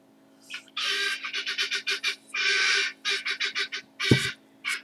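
Young baby guinea fowl call in a rapid series of harsh, squeaky chirps, close and loud, with short gaps between bursts and one brief thud near the end.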